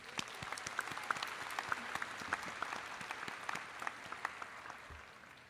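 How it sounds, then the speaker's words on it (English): An audience at a high school graduation ceremony applauds steadily, a dense continuous patter of many hands clapping, moderately distant and even throughout with no voices standing out. "Let's give them a round of applause for that."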